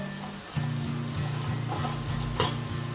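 A spoon stirring okra curry in hot oil, with a steady low sizzle, repeated scraping strokes against the pan and a sharper clack near the end, close by with no voices.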